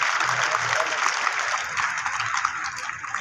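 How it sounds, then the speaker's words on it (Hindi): Applause from a village crowd as the national tricolour is hoisted by the sarpanch at a 75th Republic Day celebration in Mithda Khurd, a steady broad clatter of clapping lasting throughout, fairly loud and continuous. "तालियों की गड़गड़ाहट के बीच"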